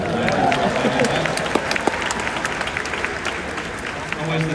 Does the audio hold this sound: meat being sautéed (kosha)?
no